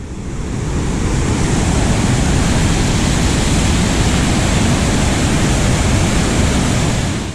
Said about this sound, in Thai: ดูน้ำนะครับ ทะลักแบบน่ากลัวมากนะครับ